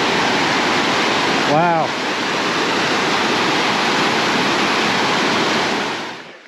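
A waterfall plume on the Twentymile Loop Trail in the Great Smoky Mountains gives off a loud, steady broadband roar from start to finish, with a brief exclamation spoken over it.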